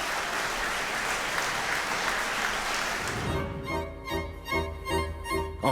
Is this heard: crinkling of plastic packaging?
no